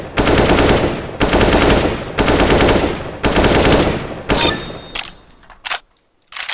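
Automatic weapon fire in the Recoil Master video game during spray-pattern practice on a moving target: four long, loud sustained bursts, then a few shorter trailing shots and quiet.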